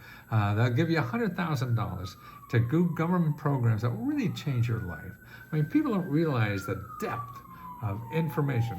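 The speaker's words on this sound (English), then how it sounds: "Oh, I think that's a siren for me." A siren wails outside, its tone sliding slowly up and down and passing at a distance, faint beneath steady close talk that continues throughout.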